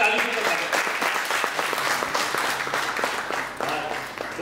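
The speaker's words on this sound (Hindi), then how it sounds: "और सभी ताली भी कर सकते" An audience claps steadily after a Hindi stage play performance at Ravindra Manch, a dense sustained round of applause with faint voices mixed in.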